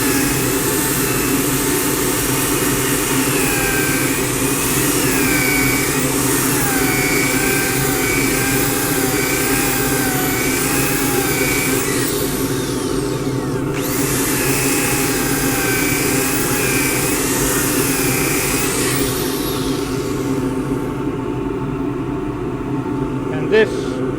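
A power sander whines steadily against a wooden natural edge bowl on the lathe, loud and continuous for the whole stretch, with a brief dip partway through before it winds down near the end.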